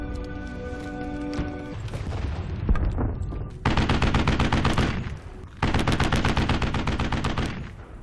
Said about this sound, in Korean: 멀리서 포격 소리가 들려옵니다